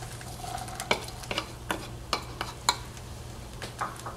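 Corn and chickpeas cook in a pan, an even sizzle broken by repeated sharp taps and scrapes of stirring at an irregular pace, close and moderately loud.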